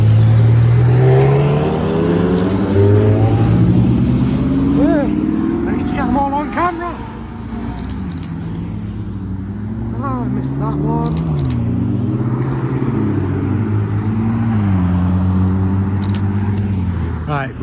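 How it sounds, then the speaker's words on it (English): Several hypercars, among them a McLaren GT, a Lamborghini and a McLaren 675, rumble and rev loudly and close by as they pull into a car meet, engine tones rising and falling in overlapping waves while people talk nearby. "Oh, more cars."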